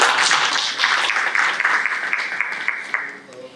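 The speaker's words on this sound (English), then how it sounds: "A big round of applause to each one of you" Audience applause at a leadership awards ceremony in Madhya Pradesh, a full crowd clapping densely at first, then thinning and fading out toward the end.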